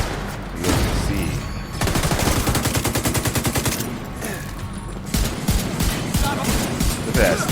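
Rapid bursts of automatic gunfire from a sniper turret in The Division 2 shooter game, several sustained volleys separated by brief gaps, loud and close with other shots mixed in.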